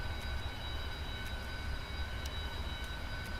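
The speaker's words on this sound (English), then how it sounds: "So now I can shut down the left engine." Boeing 777 engine winding down after landing in the PMDG flight simulator game: a steady, moderately loud turbine drone with a low rumble and faint high whine, without speech.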